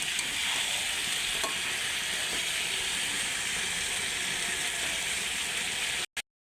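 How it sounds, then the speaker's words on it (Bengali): Silver carp and drumstick curry is stirred and sautéed in a pan, producing a loud, constant close-up frying hiss with faint scraping, cutting off abruptly near the end. "ভালো করে কষাতে থাকবো"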